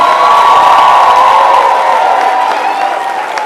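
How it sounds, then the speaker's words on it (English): A high school signing-day crowd cheers and applauds its student athletes, a loud, continuous wash of shouting voices and clapping that holds steady and eases slightly near the end. "Let's give them a applause."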